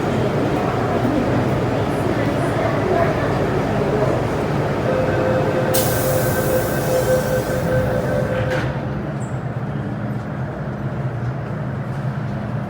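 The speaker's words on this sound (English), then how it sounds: "Wait for the train to leave" MTR Island Line M-Train subway departing a platform: a steady loud rumble of the train pulling away, with a bright tonal whine and hiss midway that cuts off as the noise eases and fades.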